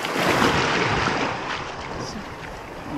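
Sea waves rolling onto a wild, deserted beach, a steady broadband roar swelling and easing with wind buffeting the microphone, fairly close and loud with no speech.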